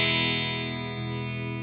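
An electric guitar through an Engl Fireball 100 amp and E412 Pro cabinet with bass boost rings out as a single sustained distorted chord, decaying slowly and heavy in the low end.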